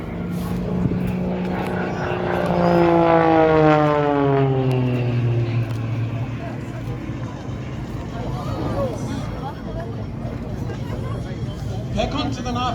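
An aerobatic propeller aeroplane at an airshow pulls into a stall turn, its loud engine note sweeping downward in pitch as it slows, a strong continuous drone with a Doppler-like falling tone.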